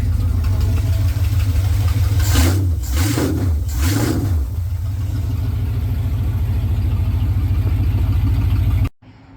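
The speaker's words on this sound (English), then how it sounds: "All right, here is the exhaust, fully on." A Ramcharger truck engine with a full Holley Hooker exhaust idles steadily with a deep, rumbling exhaust note, a few brief revs rising and falling early on, then cutting off abruptly at the end.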